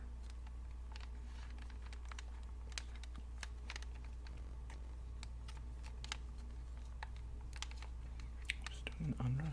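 A clear blue off-brand PlayStation 2 controller is unwrapped from its packaging, with soft crinkles, taps and rustles close up over a low steady hum, no talking.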